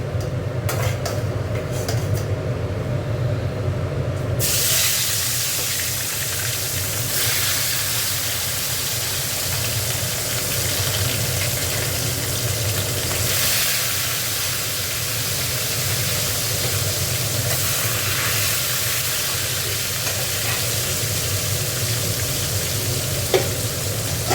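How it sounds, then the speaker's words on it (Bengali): Loud, continuous sizzling and crackling of turmeric-coated rohu fish frying in hot oil, steady throughout with occasional stirring, no voices. "এবার দেখো, মাছটা ভেজে নিচ্ছি"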